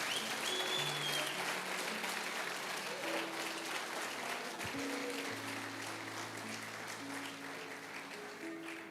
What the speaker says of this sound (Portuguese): Glória, aplauda Jesus mais uma vez